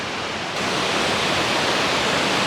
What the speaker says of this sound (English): this is a completely different waterfall, or set of waterfalls, I should say